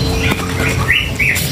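Cinereous tit (gelatik batu) giving a few short, bright chirps in the second half, over a steady, busy background.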